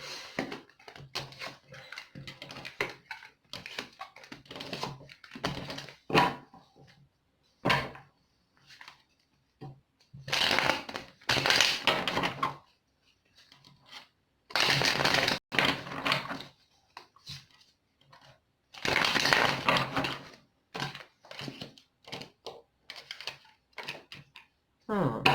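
Tarot cards are shuffled in several short, crisp riffling bursts between stretches of a person talking, with loose card flicks and soft handling noises in between.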